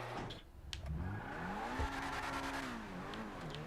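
The Reaper supercar in GTA 5 revs up, its engine note rising and falling in smooth sweeps over a few seconds, fairly quiet and heard alone.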